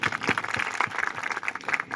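A village assembly gathering breaks into scattered applause, uneven claps rising and falling at moderate loudness with a rather thin, patchy crowd texture.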